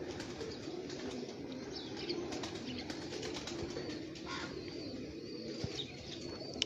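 Soft, low pigeon cooing runs steadily through the clip, with faint chirps and occasional flutters in a busy outdoor setting.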